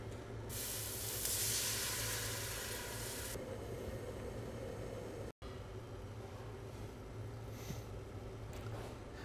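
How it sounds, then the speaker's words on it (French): A pan being deglazed while making a cooking jus, with liquid hitting the hot surface in a loud hissing burst for a few seconds, then settling into a steadier, quieter bubbling sizzle as it reduces, after a brief cut. "Et maintenant, on vient juste déglacer et réduire."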